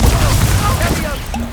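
The Confringo blasting spell cast in Hogwarts Legacy, a loud, booming burst with a rumbling tail that stays strong throughout and fades slightly toward the end.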